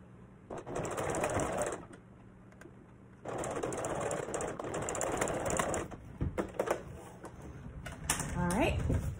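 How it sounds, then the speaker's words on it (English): Sewing machine stitching a cloth face mask, its motor whirring in bursts with pauses between, close and fairly loud, ending in a quicker ratcheting run. "I'm gonna do it on my sewing machine again"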